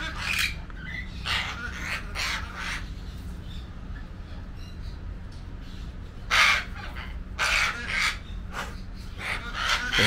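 Scarlet macaws squawk in loud, harsh bursts, several rapid calls in clusters separated by quieter gaps, close by against a low outdoor background hum near ancient ruins.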